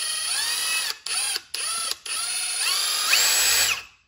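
A Ryobi P238 brushless impact driver spins a bit freely, a high whirring motor whine broken by three short stops, then revving up louder before cutting off, close by with no talk.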